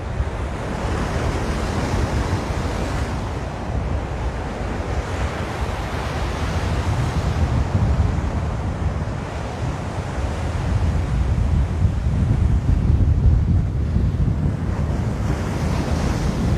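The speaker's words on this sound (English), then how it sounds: "If the wind is really windy right now, I apologize, but it's one or the other, either really cool waves or no wind, not both." Ocean surf rolls in steadily at Ala Moana Beach in Hawaii. Strong wind buffets the microphone in a constant, loud roar over the waves. No voices are heard.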